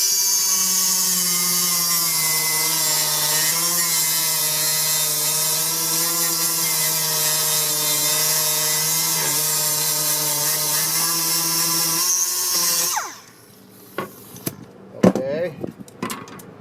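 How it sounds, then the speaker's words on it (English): A grinder works at a metal mounting fixture, a loud steady whine that holds for about twelve seconds and then stops, followed by clanks and metallic knocks. "I got to try and see if I can't grind that off with the other grinder"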